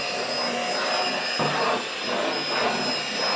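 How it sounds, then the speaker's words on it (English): A small portable vacuum cleaner sucking up leftover pieces of laser-cut cardstock, a loud steady airy whine with brief shifts in pitch as debris is drawn in, heard alone. "I got my little portable vacuum cleaner here. I'm gonna suck up all these little pieces that are in here."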